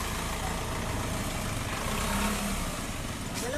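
Tow truck engine idling while motorcycles are impounded, a faint, steady low diesel rumble that continues evenly in the background with no talking.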